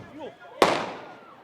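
A single sharp firecracker bang during a Lantern Festival fish-lantern procession in Anhui, China. It is loud and close with a long ringing decay and follows brief voices.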